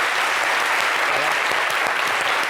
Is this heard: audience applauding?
yes